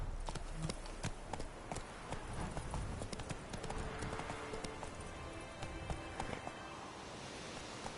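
Hooves clip-clop in a steady galloping rhythm as a horse runs in the video game The Witcher 3, loud and continuous with game ambience and faint talk.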